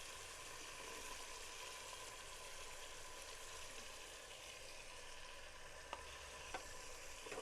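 Onion and garlic fry in a pan for biryani with a faint, steady sizzle, joined by a couple of soft clicks from stirring near the end.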